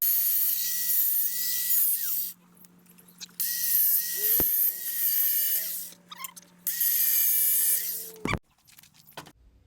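Loud, harsh grinding of a side grinder on metal in long bursts with brief pauses between, ending in a sharp clank.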